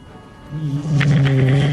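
A deep, rising wolfdog growl swells into a loud throaty snarl, close and menacing, with no speech, as a radio drama effect.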